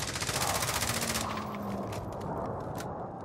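Rapid automatic gunfire in the battle royale shooter Call of Duty Warzone, a steady rattling burst that fades into scattered, quieter shots.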